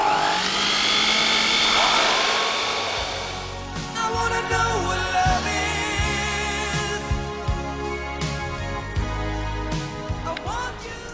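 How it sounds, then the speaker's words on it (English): A hot air blower drying a thin layer chromatography plate, a loud continuous whirring blast for the first few seconds that then cuts to quieter tonal bumps and clicks, with music-like tones running underneath. "and then dry with a hot air blower."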